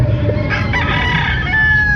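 Gamefowl rooster crowing close by among a flock of fighting chickens, one loud drawn-out crow over steady farmyard background noise.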